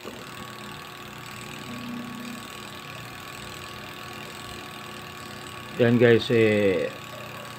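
A repaired spin dryer motor runs as a quiet steady hum, while a person talks briefly near the end.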